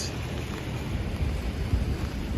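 Steady rain falling at night in Midtown Manhattan along Broadway, a continuous broadband wash with low city rumble underneath, no talking.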